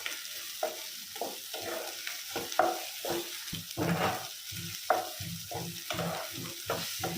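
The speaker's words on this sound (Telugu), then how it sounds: "1 టేబుల్ స్పూన్ అల్లం వెల్లుల్లి పేస్ట్ వేసుకుని పచ్చివాసన పోయేంత వరకు కలుపుకోవాలి" Ginger garlic paste is stirred into softened tomato pieces in a pan for a flat bean tomato curry, giving soft, continuous sizzling broken by repeated spoon scrapes in an uneven rhythm, close and moderately quiet.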